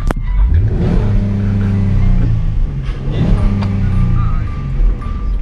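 A car engine revs and accelerates in roadside traffic, its tone climbing and falling in two loud surges with steady road rumble underneath.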